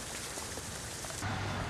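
Rain mixed with sleet falls steadily outdoors on a winter morning in Central Florida, a dense, even hiss of drops and pellets striking surfaces close by, with no voices.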